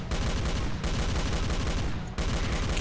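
Gunfire in Doom with the Project Brutality mod, a dense, loud, unbroken stream of rapid shots in a few long bursts with only brief gaps, and no talking.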